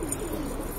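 Pigeons at a home loft coo faintly in a brief, low murmur.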